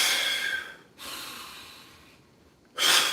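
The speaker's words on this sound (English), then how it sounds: "In through the nose, hard out through the mouth." Close, loud breathing during an Indian clubs workout: a sharp nasal inhale, then a long forceful exhale through the mouth, a short pause, and another hard breath at the end, with no talking.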